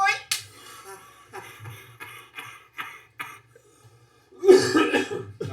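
A single sharp cough bursts out near the start, followed by scattered laughter and bits of talk, with a louder laugh-like burst toward the end.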